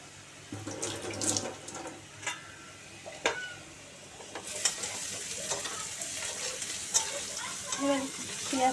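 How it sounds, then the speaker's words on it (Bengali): Marinated chicken frying in a pan for a thin chicken curry, a steady close hiss of sizzling oil that swells about halfway through, broken by a few utensil scrapes and clinks. "একটু মোটামুটি লাল লাল হয়েছে একটু করে ভাজা হয়েছে"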